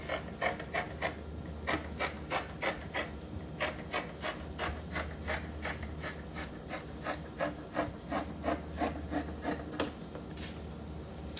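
Scissors snip through dark fabric for a hair bonnet, a quiet, steady series of short cuts repeating about once a second, close by with no one talking.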